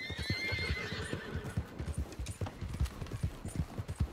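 Horse in Red Dead Redemption 2 gives a rising whinny early on, then hooves clip-clop in a steady rapid rhythm, close and moderately loud.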